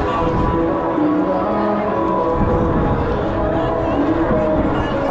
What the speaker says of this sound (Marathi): बापरे गर्दी बघू शकता किती भयानक गर्दी आहे.